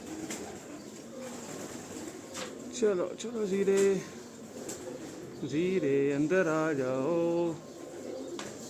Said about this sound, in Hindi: मेन कबूतर तो सारे ही आ गए हैं।